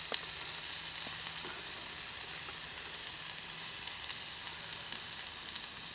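Pork sizzles steadily in a pan with ghee: a continuous, close crackling hiss with small pops, unbroken and without talk.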